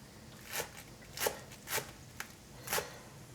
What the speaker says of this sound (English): So first I am slicing this, and then I'll run my knife through it again to sort of mince it